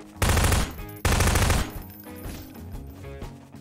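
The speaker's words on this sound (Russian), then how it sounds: "Давайте постреляем в нее." Two loud bursts of rapid automatic gunfire from the game Garry's Mod, each lasting about half a second, followed by quieter shuffling and faint game noise.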